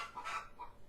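A pet hen clucks a few times, soft and fairly close, in short broken bursts with no talking.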